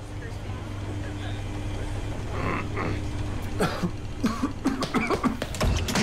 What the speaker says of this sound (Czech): Kašel neschováte. Musíte se ho zbavit.